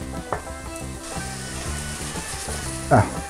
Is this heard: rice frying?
yes